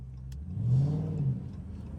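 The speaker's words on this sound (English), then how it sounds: "My boy Quest spun that bitch." An all-wheel-drive V6 Mopar car spins out on a night street, its engine surging into a loud rev for about half a second before easing off, close by with no talk over it.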